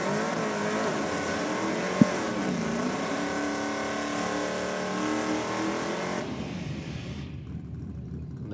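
An AMG race car engine revs loudly at a race meeting, its pitch rising and falling and holding strong before fading away, with a brief sharp knock early on.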